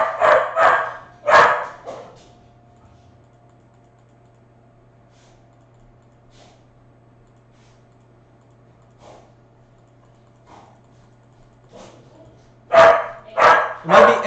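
A house dog barks loudly in quick bursts of several barks at the start, goes quiet for a stretch under a low electrical hum and faint keyboard taps, then breaks into another volley of barks at the end.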